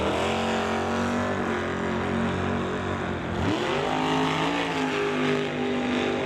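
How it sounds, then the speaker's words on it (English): A drag racing dragster launches at a Lordco drag event, a loud, dense engine roar that builds steadily, with a sharp surge and rising pitch midway as the car leaves the line. "And off goes the dragster."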